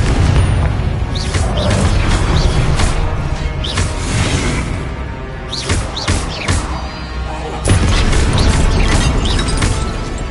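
Repeated booming blasts of the Confringo fire spell in a Hogwarts wizarding video game, each a sharp burst with a whooshing tail, landing every second or two over dense, continuous combat noise.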